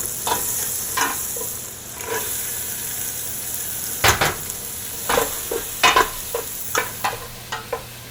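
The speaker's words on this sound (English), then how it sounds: "I've got 2 diced shallots that I'm going to saute" Two diced shallots sauté in butter in a pan, a constant bright sizzle broken by repeated sharp scrapes and taps of a utensil stirring, close and without talk.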